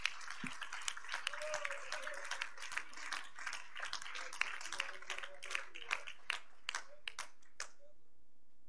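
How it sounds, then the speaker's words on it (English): Worshippers at a midweek church service clap their hands, a dense patter of individual claps at moderate distance with faint voices underneath, thinning out toward the end. "we clap our hands and worship you in Jesus' name"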